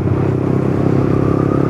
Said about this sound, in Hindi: यही है रे मैचिंग।